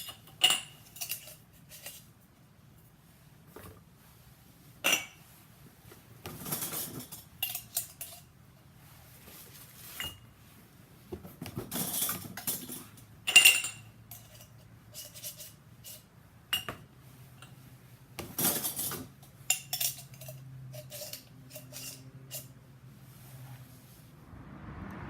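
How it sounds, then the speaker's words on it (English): Glass mason jars are put away on a kitchen counter, giving scattered clinks, knocks and short scrapes in uneven bursts, close by but fairly quiet, with long quiet gaps between them. "I need to put away some of the jars on my counter."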